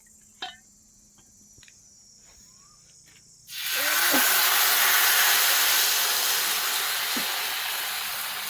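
Rice flour batter for ghavne hitting a hot pan over a wood-fired stove, bursting into a loud, steady sizzling hiss after a few faint clinks and lasting to the end, close and without talk.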